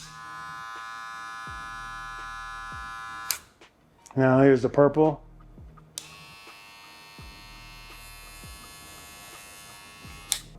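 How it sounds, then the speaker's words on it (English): A steady electric hair clipper buzz from a Wahl rotary-motor clipper runs, stops while someone speaks briefly, then a clipper switches on again and hums evenly. "It's gonna have that rotary sound that you are typically gonna hear when you have rotary motor"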